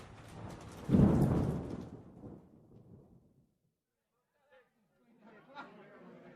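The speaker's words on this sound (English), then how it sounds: "Tonight there is a terrible storm, and it is raining." A deep roll of thunder rumbles and fades over rain during a night storm, then quiet before faint rustling and patter return.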